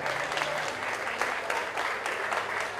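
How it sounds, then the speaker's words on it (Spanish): An audience at a municipal cultural event with regional dance and music gives sustained applause, a steady, full wash of clapping with faint voices mixed in. "Un aplauso, por favor."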